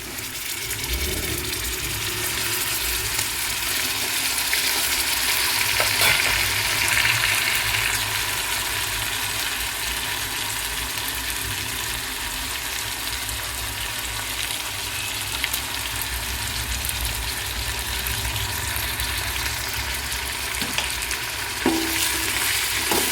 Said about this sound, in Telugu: టమాటాలు కూడా బాగా ఒక 5 నిమిషాలు వేగాలండి.